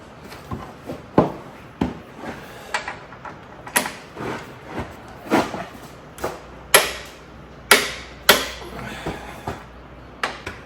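Sharp ratcheting clicks and metallic snaps come in uneven bursts as a torque wrench tightens bolts to 200 foot-pounds on a Brockway 361 Cummins engine during a rebuild, close and fairly loud with quiet gaps between pulls.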